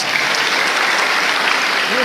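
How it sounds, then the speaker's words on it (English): Audience clapping at a university inaugural lecture, a dense steady burst of applause filling the whole short stretch with no talk over it. "I thought we would clap for that"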